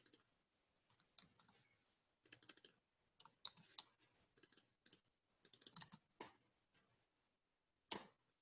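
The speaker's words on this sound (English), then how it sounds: "keep typing away." Computer keyboards clatter in quick, irregular bursts of soft key clicks, close but quiet, pausing briefly between runs, with one sharper tap near the end and no talking.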